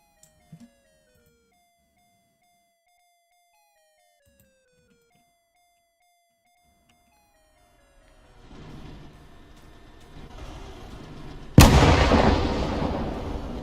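Tank shots land close by in a video game tank battle: faint whistling tones give way to a rising rumble, then a sudden loud blast with a rolling, crackling tail.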